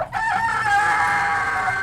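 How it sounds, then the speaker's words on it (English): A rooster crows once, a loud, close, drawn-out call that rises and holds before trailing off. "they'd hear a rooster crow."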